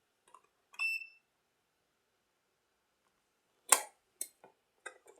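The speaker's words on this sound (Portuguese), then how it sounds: "Quando a gente encosta as duas ponteiras do multímetro, ele apita." A few short electronic beeps and ticks from a multimeter in continuity/diode mode as its probes touch, checking a charging circuit for a short, then a pause and a cluster of sharper clicks and chirps near the end, close and clean with no talking.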